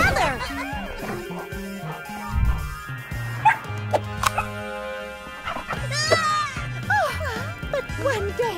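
A cartoon dog barks, yips and whimpers in short bursts over background music, with playful cartoon voices talking around it.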